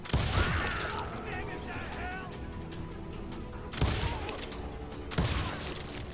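Long-range gunfire in the Western shooter Call of Juarez: Gunslinger, with sharp cracks standing out at about 3.8 and 5.2 seconds over busy in-game noise and a talking voice.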